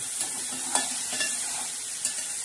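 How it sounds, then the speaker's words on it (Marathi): Turmeric tempering sizzling steadily in a hot pan while cabbage is cooked, a continuous quiet fry with a few sharper crackles and spoon stirs rising briefly above it. "तर आताही मस्त छान असं आपण या तडका टाकून घेणार आहोत"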